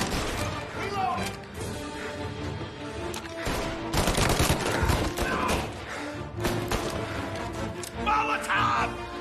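Gunfire in the Mafia video game breaks out in repeated bursts of sharp shots, crashes and thuds, loud and near, with a voice shouting over the fighting.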